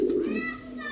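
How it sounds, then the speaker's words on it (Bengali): A giribaj pigeon coos close by in a low, rounded murmur that runs through the whole short moment, with faint background chatter around it. "এই হচ্ছে কবুতর"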